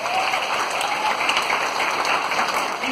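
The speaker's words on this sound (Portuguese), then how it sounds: "Quando for aplaudir essa experiência." Audience applause inside a church during a service, a dense, even wash of many hands clapping throughout, steady and fairly loud with no voices over it.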